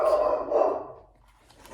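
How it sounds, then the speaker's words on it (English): A dog barks a couple of times nearby, loud and clear, then the sound fades into quiet. "That's my dog, Espy."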